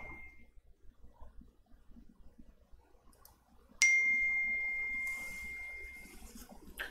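A phone notification ding rings out once as a clear, bright tone that slowly fades, set against a quiet backdrop with soft clicks.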